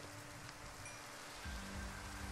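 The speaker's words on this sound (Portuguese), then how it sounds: "E tá chovendo ainda." Rain falls in The Crafting Dead video game at night, a steady, moderate hiss of drops that thickens slightly partway through, with no talking.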